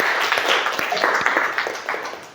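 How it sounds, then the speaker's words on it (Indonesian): A classroom group applauding a student during a university teaching-practice lesson, a brief burst of scattered clapping from a room full of people. "tepuk tangan untuk Mas Mahmud"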